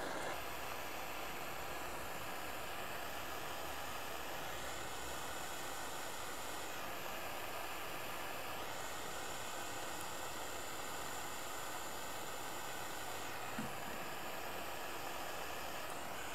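Steady broadband hiss of a torch flame heating a domed ring from the inside for soldering, with faint tonal whines drifting above and no talk.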